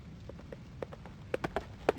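Horse hooves clip-clop in a light, uneven series of sharp knocks that grow a little louder toward the end, fairly close and faint, with no talk.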